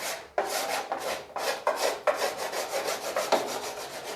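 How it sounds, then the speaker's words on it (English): Rhythmic rasping strokes of a file worked back and forth over a hardened paint run, close and steady, about ten scraping passes with brief gaps between them. "So we'll file that down, especially right there where it's going to be covered by trim"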